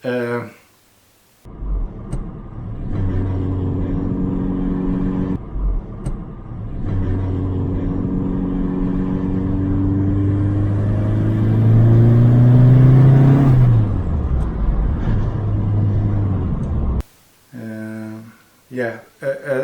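A Saab 9-5 Aero engine runs with a loud steady drone and a whining tone from a faulty gearbox bearing that rises as it speeds up, with brief voices before and after.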